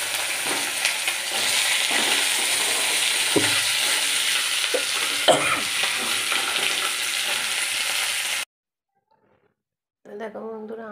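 Panch phoron, the Bengali five-spice mix, fries in oil for a vegetable curry, giving a loud, steady sizzle with stirring scrapes for about eight seconds before cutting to silence, then a voice talks briefly.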